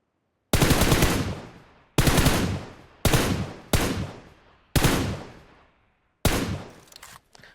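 Bursts of automatic gunfire from a mobile shooter game sound in six sharp, loud volleys. Each volley decays quickly, with short silent gaps between them and no voices.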